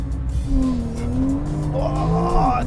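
A 2015 Porsche 911 Turbo S accelerating hard from standstill, loud engine roar climbing steadily through the revs with tire noise, close and continuous.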